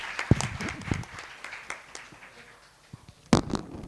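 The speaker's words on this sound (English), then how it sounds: "Please make a round of applause for all of them again." Scattered clapping from a small audience at a university finance lab launch panel, uneven and fairly sparse, with a louder burst of claps near the end.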